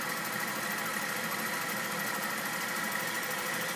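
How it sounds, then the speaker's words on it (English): A small high-speed steam engine drives a generator and two pumps, including a boiler water feed pump, at a distillery; a constant, even mechanical whir with fast rhythmic knocking holds steady throughout. "It is a fairly high-speed engine that can operate a generator with ease"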